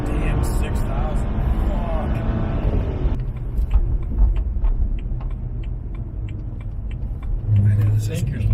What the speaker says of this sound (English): There's that BMW sound.